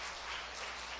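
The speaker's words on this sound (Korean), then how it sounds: "박수로 한번 격려합시다." A church congregation applauds to encourage newlywed members, a dense wash of many hands clapping at once, steady and fairly soft from across the room, with no talk over it.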